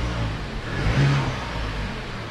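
A 2021 Mazda 3 Turbo with its stock exhaust idles and revs once, a steady, fairly quiet engine drone that rises briefly to a smooth rev at mid-clip and settles again.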